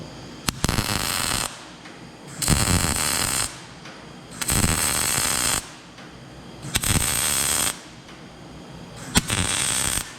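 Welding on a Maverick Sport roll cage sputters and crackles in several loud bursts of a few seconds each, separated by quieter pauses, close up with no talk.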